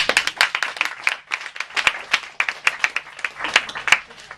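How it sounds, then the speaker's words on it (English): A small group of students clapping in irregular, brisk applause at a California FBLA summit conference, close and fairly loud, with no voices over it. "Give yourselves a big round of applause"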